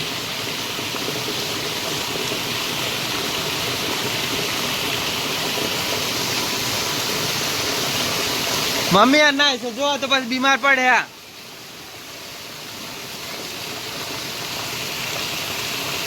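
Rain water pours steadily in a village downpour, a constant close hiss of falling water that runs throughout while a person speaks briefly in the middle.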